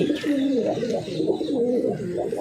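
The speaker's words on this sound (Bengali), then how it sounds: "দশটা পায়রা আসছে আমার কাছে" Pigeons coo steadily in low, throaty rolling calls, several overlapping and close by, with no pauses.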